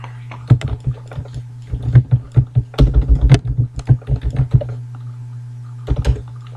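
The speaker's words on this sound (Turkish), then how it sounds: "İşte D diyorum ve Diyarbakır yazıyorum." Quick bursts of keystrokes on a computer keyboard, close and clear, with irregular clusters of taps and a dense flurry in the middle over a steady low hum.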